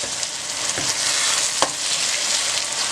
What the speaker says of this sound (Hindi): अब आपने इसको हल्का हल्का मिक्स करना है।